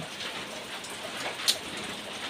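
Early-morning rain falling steadily in a hiss across the whole stretch, with one brief sharp drip or tap near the middle; no voices.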